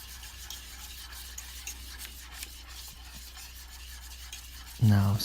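Dark chocolate truffle mixture being stirred in a bowl, with steady soft rubbing and scraping strokes heard close with no talking, ending in a louder thump.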